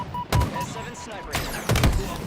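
Sharp S7 sniper rifle shots ring out in Halo, with a few loud cracks and echoing tails spread over two seconds amid game noise and faint talk.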